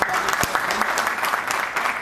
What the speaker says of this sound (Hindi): मैं चाहूँगा कि जोरदार तालियों के साथ स्वागत हो